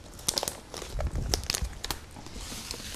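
A bag of sesame seeds crinkles in a kitchen during cooking, a short run of soft crackling and rustling bursts, fairly close and moderately quiet, with no speech over it.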